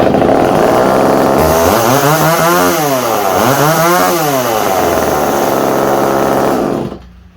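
An old Craftsman chainsaw runs loud and close, its two-stroke engine revving up and down in repeated surges before cutting out abruptly at the end.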